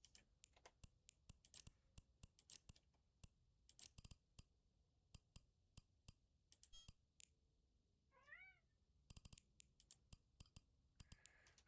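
A cat meows several times in a short rising and falling phrase, close and fairly quiet, set among rapid, sharp keyboard and mouse clicks that tap away steadily before and after it.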